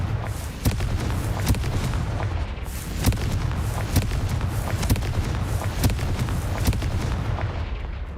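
Confringo fire spells going off in Hogwarts Legacy, landing as a string of sharp, booming blasts at uneven intervals over a rumbling game background.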